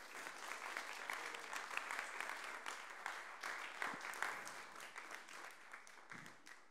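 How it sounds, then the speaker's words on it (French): Sustained audience applause filling a hall at a diocesan synod presentation, dense steady clapping from many people throughout, fairly even in loudness with no speech over it. "Ça, je crois qu'on peut vraiment l'applaudir encore une fois."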